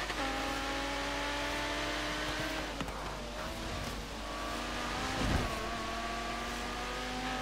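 A twin-turbo V10 car in the Forza Horizon 3 racing game revs hard. The loud, sustained engine note climbs and drops through gear changes with a brief whoosh near the end.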